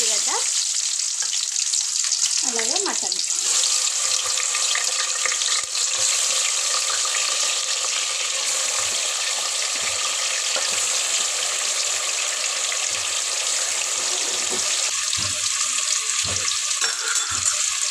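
Onions sizzle in a pan until they turn red, cooking alongside chicken for a chicken fry; the frying crackles loud and continuous throughout, with some stirring and the clatter of the pan.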